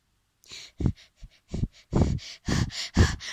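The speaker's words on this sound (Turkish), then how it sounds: "Nefes alıyorum." A series of close, audible breaths, short inhales and exhales in an uneven rhythm, some sharper and louder, with no talking.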